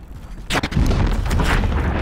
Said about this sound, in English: Oh, that's where the explosion's coming from.